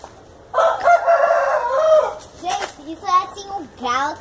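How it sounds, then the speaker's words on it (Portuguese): A rooster crows one long, loud call close by in a backyard garden with chickens, followed by shorter clucking and rising calls from the fowl. "Galo cantando."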